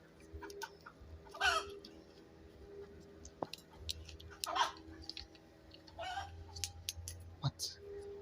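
A chicken clucks in short bursts outdoors, several scattered calls near to mid distance against a quiet background with faint rustling.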